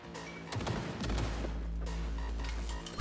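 Gunfire in the Cyberpunk 2077 video game, bursts of automatic shots with a sustained rumbling blast and metallic clatter, moderately loud and not far off, with no talk over it.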